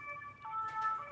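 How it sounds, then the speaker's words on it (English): Fire engine sirens wail during the blaze at Notre-Dame in Paris, several overlapping tones rising and falling at a moderate distance in the night. "You can hear the fire sirens have been in permanence"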